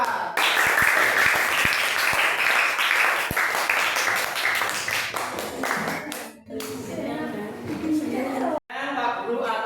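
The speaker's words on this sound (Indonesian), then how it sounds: "beri aplaus kepada kelompok 4" Classroom applause for a student group: many hands clap together in a loud, sustained burst that fades briefly, then picks up again, mixed with children's voices.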